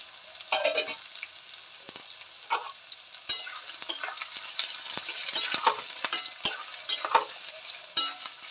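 Plenty of onion frying in oil with whole dried red chillies and bay leaves, a soft steady sizzle broken by scraping stirs and clinks of a spoon against the pan.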